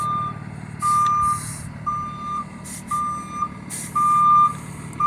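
A school bus backing up during CDL Class B offset parking practice sounds a steady series of loud, evenly spaced reversing beeps over a low idling engine rumble, with a few short hisses of air between them.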